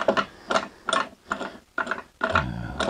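Clamp being readjusted on a maple and blue segmented woodworking blank: a run of six quick ratcheting clicks, evenly spaced and close, with no talk.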